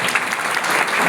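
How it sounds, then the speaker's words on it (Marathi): A college audience at an elocution competition claps loudly and steadily, a dense continuous burst of applause filling the hall. "पुन्हा एकदा जोरात टाळ्या."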